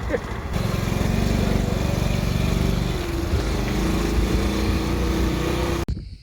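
A motorcycle engine runs steadily and loudly at close range beside a garden, holding a constant droning rumble for several seconds before cutting off abruptly near the end.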